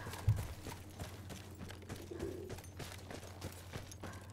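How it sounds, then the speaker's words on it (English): A pigeon coos in the video game Battlefield 1, a soft, low call mixed into a steady game soundscape with an ongoing low hum and scattered background noise. "Little pigeon."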